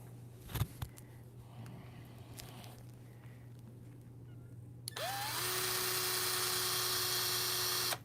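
A car polisher with a fresh pad buffs paint using swirl remover, starting at about five seconds as a loud, steady whine with a rising pitch sweep that then holds continuously, after a quieter stretch with a few handling knocks.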